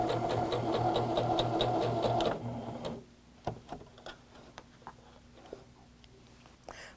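A sewing machine stitches across the end of a bound buttonhole, made with a Dritz bound buttonhole tool. It runs in a steady, loud, rhythmic whir for about two seconds, then stops, leaving faint handling clicks.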